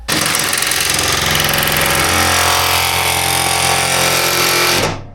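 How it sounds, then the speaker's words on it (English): A reciprocating saw fitted with a metal-cutting blade buzzes loudly and steadily through scrap metal for about five seconds, close to the microphone, then cuts off abruptly at the end. "I've got a reciprocating saw."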